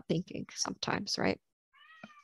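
A cat meows once, briefly and fairly close, right after a person finishes speaking.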